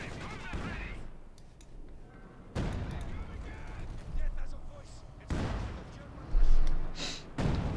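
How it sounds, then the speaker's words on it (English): Gunfire and heavy explosions from a Company of Heroes 2 multiplayer battle, Wehrmacht against Soviets, with repeated booming blasts and crackling shots layered under continuous commentary. "being pinned down here under unrelenting and scathing firepower from Iceland's Kreutz"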